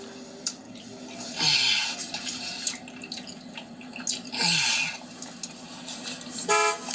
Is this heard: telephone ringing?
no